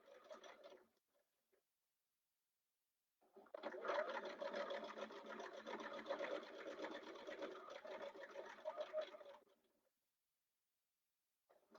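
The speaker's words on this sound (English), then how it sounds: "I like it when you're sewing this a straight stretch" A sewing machine stitching a straight stretch of fabric for a sling, running in a brief burst, pausing, then whirring steadily for several seconds before stopping; close and fairly quiet with no talking.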